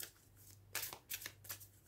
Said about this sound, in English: Actually, let's shuffle a little more.